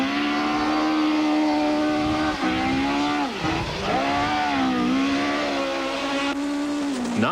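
A Volkswagen rally car is driven hard on a dry, stony stage, its engine wailing loud and close with rising and falling revs through gear changes and lifts, sustained throughout.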